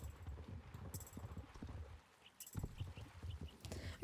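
Rhythmic clip-clop of horse hooves in a video game, moderately close, with a brief pause midway before the steady trotting resumes.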